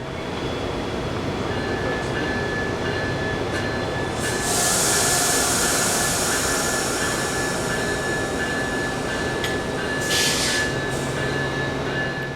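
Southbound train 305 rumbles past on the railway, a loud continuous roar of wheels and cars with brief bursts of hissing noise, steady for the whole stretch with no voices.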